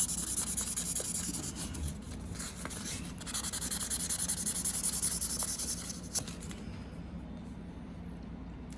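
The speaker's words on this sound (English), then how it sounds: "You can move it around in different directions because the abrasive doesn't know which way you're going." Tweezers are sharpened by rubbing them on an abrasive, giving a soft, close, continuous scratching and rubbing that shifts in strokes and fades out near the end.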